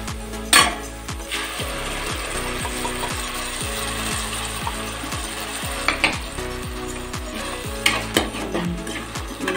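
Tomato paste stirred into hot oil in a pan, with steady rhythmic scraping strokes of a spoon against the pan over a continuous soft sizzle, close and fairly loud.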